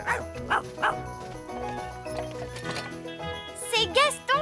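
A cartoon ladybird imitates a sheepdog with a voice, giving rhythmic yappy woofs at first and a rising, whining yelp near the end, layered over cartoon background music.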